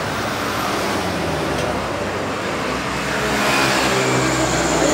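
Heavy logistics truck, likely a 190 PS Isuzu or Hino tronton, rumbles past on an Indonesian road as a loud continuous engine and tyre roar that swells toward the end, with no voices.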